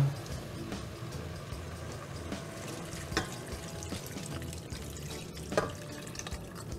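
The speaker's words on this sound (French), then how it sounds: "Et donc on va recouvrir d'eau à hauteur." Water poured into a cooking pot of fish trimmings to cover them while making a poaching stock, a steady running, splashing flow with a couple of brief louder splashes, close and alone.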